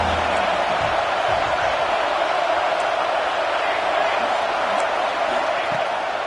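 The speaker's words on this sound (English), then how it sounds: "This crowd rising up, sensing that its defense needs some help." A crowd roaring and cheering in a football video game, a steady, dense wall of stadium noise with faint whoops, continuous for the whole stretch.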